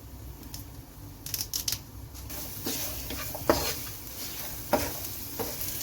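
Curry leaves hitting hot oil in a pan while cooking fish roe fry, giving a steady sizzle with scraping stir strokes and a few louder clinks, close and moderately loud.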